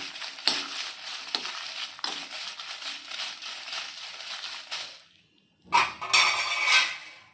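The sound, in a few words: dried red chillies frying in oil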